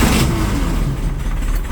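A buggy's engine turns over and catches after a wiring repair, giving a loud, steady rumble up close that fills the whole short moment.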